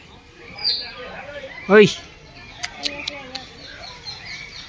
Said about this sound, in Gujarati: સૌથી પહેલાં મકાઉ દેખવા મળ્યો છે